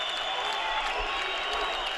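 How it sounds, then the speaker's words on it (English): An Azerbaijani crowd on its feet cheering and chanting at a heavyweight 91 kg amateur boxing quarterfinal at the 2011 AIBA World Championships, a dense, steady roar filling the hall. "Azerbaijani crowd on their feet, chanting, rocking, rolling, making noise"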